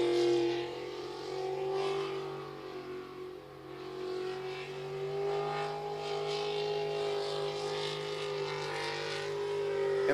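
Modified sprint racing boats run a qualifying round on the water at a Lewiston, Idaho pro race, giving a steady, droning engine roar with harmonic whine that swells and eases slightly, heard from a moderate distance.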